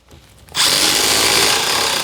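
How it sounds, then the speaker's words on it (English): An impact driver sinks a 1 5/8 inch screw into a narrow drawer cabinet: after a short quiet lead-in, a loud, close, steady buzzing whir with rattling impacts kicks in and holds for about a second and a half. "Got my 1 5/8 screws. The impact driver."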